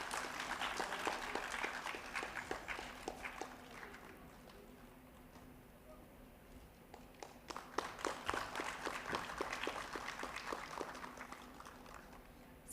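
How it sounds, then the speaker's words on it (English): Audience applause for a prize winner at a school Earth Day celebration, crowd clapping steadily throughout, dipping midway and then swelling again, with faint murmuring underneath. "A big round of applause for her."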